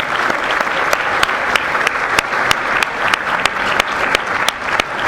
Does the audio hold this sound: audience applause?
yes